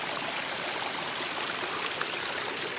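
A river flows steadily along a hiking trail in Shingletown Gap near State College, giving a dense, even rush of water that stays close and constant, with no voices.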